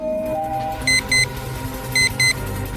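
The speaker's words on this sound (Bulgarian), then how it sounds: "Нещо започна да писука тук всичко." An electronic timer on a remote-control handset starts beeping after a button is pressed: two pairs of short, high, clear beeps, evenly spaced, sounding over a low background hum with no talking.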